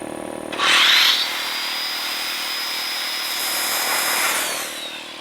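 A circular saw spins up with a sharp whine, then settles into a steady high drone while an air compressor runs alongside, both powered from a portable power station, with no voices.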